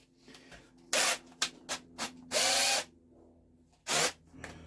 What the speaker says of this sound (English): Let's get our socket on our drill and give this a little turn.